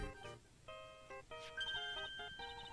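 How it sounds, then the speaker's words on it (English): A cell phone rings in the Phoenix Wright: Ace Attorney: Trials and Tribulations video game, playing a quiet, bright electronic melody of short repeated tone bursts with no talking. "Oh, Nick, your phone."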